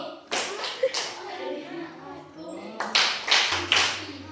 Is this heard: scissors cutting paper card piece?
no